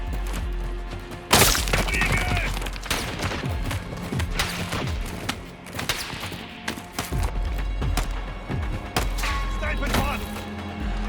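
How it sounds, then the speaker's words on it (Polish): Sharp sniper gunshots in the video game Call of Duty: Modern Warfare 2 crack out irregularly, a loud blast early on followed by several more shots and scattered impacts over a steady background rumble. "Cholernie dobry strzał."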